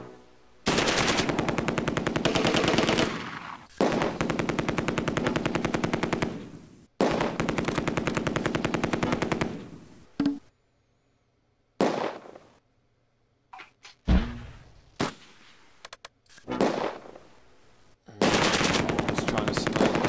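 Machine-gun fire in Close Combat 2, long loud bursts of rapid shots broken by short pauses and scattered single cracks, with quieter gaps between volleys.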